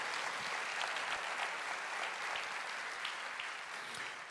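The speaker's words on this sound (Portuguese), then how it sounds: "Você pode dar um glória a Deus e uma salva de palmas para Jesus?" Church congregation claps in a soft, distant, continuous wash of applause, even and unbroken from start to finish.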